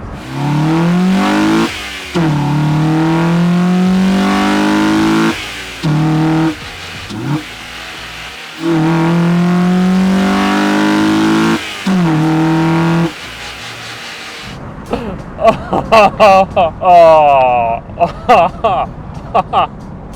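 A car engine with a custom-fabricated cold air intake revs hard several times in long rising bursts, loud and close, followed by sharper, quicker throttle blips near the end.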